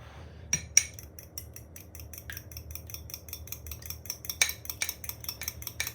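A fork beats an egg in a small dish, quick rhythmic metal clinks against the bowl with a couple of sharper taps, close and clear with no talking.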